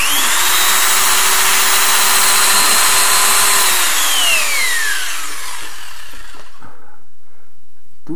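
A power drill bores into a wooden board and strikes a hidden screw, the motor whining loudly and steadily for several seconds, its pitch sliding downward as it binds before cutting out into near silence.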